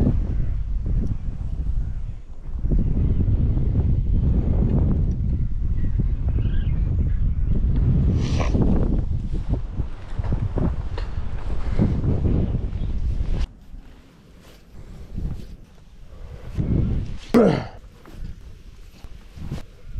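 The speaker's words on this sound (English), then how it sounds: "just a little bit of wind always helps" Wind gusts buffet the microphone beside the water while trout fishing in Victoria, a loud rumbling roar that dominates the first half then drops to quieter, intermittent gusts with faint rustling.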